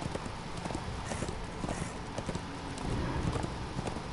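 Horse hooves in the video game Darksiders II clip-clop at a steady walking pace over a dense background hiss, the footfalls close and evenly spaced throughout.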